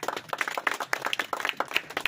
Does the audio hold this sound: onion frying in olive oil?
no